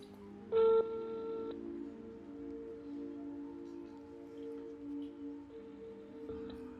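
A phone call rings out as a pitched electronic ringing tone, one short burst near the start and another near the end, with a quiet hush between them.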